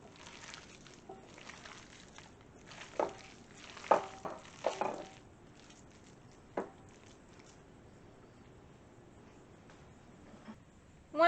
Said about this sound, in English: So now you're going to want to mix it together with your hands.